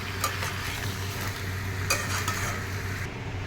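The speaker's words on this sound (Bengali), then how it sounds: "এখন আমি আর নুনও দিলাম না জাস্ট হালকা করে একটু ভেজে তুলে নেব" Potato and young jackfruit pieces fry lightly in oil, giving a steady, moderate sizzle with occasional soft stirring clicks and a low background hum throughout.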